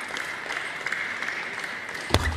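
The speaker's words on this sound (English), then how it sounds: "Paul's getting some good support from the crowd. Just encouraging him after that service error." A crowd at a table tennis World Cup match claps and cheers in encouragement after a service error, a steady spread-out wash of applause at moderate distance, with a sharp knock near the end.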